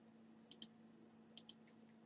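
Two quick pairs of sharp, faint computer mouse clicks, double taps about a second apart, over a low steady hum from the desk setup.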